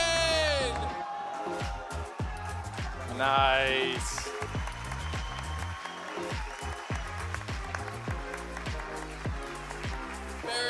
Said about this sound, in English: Big round of applause for Tegan.